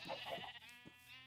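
A Minecraft sheep gives a single wavering bleat, close and clear, trailing off into a softer tail with no talk over it.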